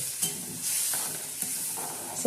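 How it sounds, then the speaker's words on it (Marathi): Ground peanut-chilli paste is stirred in a frying pan, with a soft steady sizzle and a few scraping strokes of the spoon at an unhurried pace, close by with no talking. "परत आता हलवून घ्यायचं मस्त वाटण"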